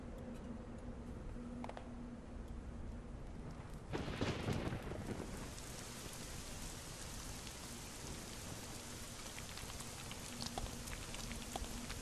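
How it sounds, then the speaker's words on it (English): Rain in the video game Little Inferno falls as a constant dense patter, with a low rumble of thunder swelling partway through and fading back into the steady downpour. "I'm not sure why creation science makes it rain, but okay."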